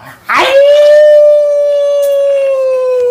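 A man imitates a dog howling, giving one loud, close, sustained howl after a short rough start, holding a steady pitch that slowly fades toward the end.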